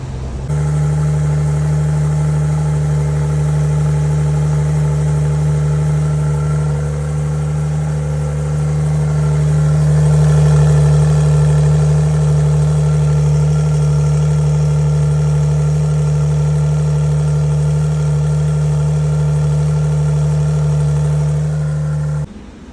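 A Porsche 992 base model with a Pure 800 turbo conversion idles loudly and close, a steady deep drone with a slight swell in the middle as the revs lift briefly, then settle back.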